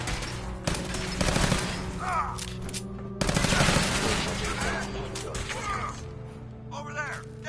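Rapid gunfire bursts from the video game Fallout 4 crackle in two dense volleys with scattered single shots and mechanical clatter, mixed with game voices talking and shouting.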